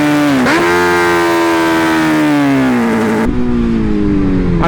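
A Honda CB 650F four-cylinder motorcycle revs high and loud, its tone dipping and climbing again, then the pitch steps down as it shifts and keeps singing steadily at high revs.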